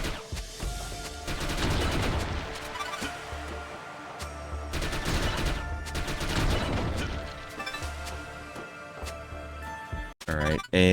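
Heavy gunfire from a big gun in The Mummy: Demastered video game, repeated bursts of loud booming shots in clusters separated by short pauses, ending with a few sharp bangs, no talking.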